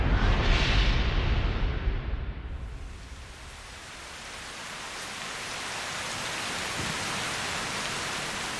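Steady icy rain pours down in a dense, continuous hiss, loudest at the start, then easing slightly before settling into an even downpour with no voices.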